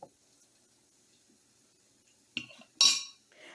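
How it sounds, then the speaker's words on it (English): A metal spoon stirring beaten eggs in a bowl for a bacon, vegetable and cheese omelet, heard as two brief, sharp clinks against the bowl after a long, quiet stretch. "I usually just do a spoon and just kind of stir it around like that."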